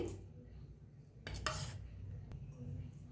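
A spoon mixes curd with turmeric, salt and a little oil in a bowl, giving quiet, faint scraping and a couple of clinks against the bowl, with no talk.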